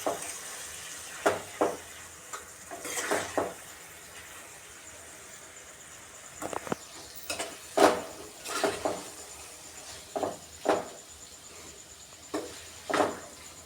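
Roasted flour is stirred into a whole-onion curry in a pan, giving repeated soft scraping strokes and light sizzling in short bursts with quiet gaps between, close and fairly faint, with no talking.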